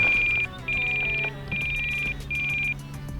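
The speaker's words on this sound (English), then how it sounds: "Just the power just sags down, sets the alarm off." A low battery voltage alarm on an E-Flite RV-7 RC plane beeps in four steady high-pitched tones with short gaps, loud and close over a low background hum.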